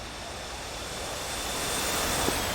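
A jet roars steadily on approach to an aircraft carrier deck in a flight simulator, a broad loud engine rush that builds gradually over a few seconds with no speech.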